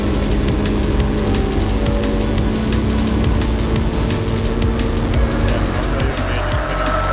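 Loud racing-car engines roar continuously during a 750 Motor Club circuit race as one car is rear-ended, with steady close engine drone and tyre noise throughout.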